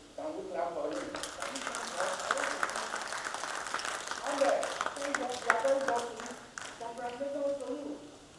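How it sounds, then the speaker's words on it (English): An audience applauds steadily at the investiture of Engineer Ogedegbe at a Nigerian Academy of Engineering ceremony, sustained clapping filling the hall with a voice speaking over it. "Can we clap for him?"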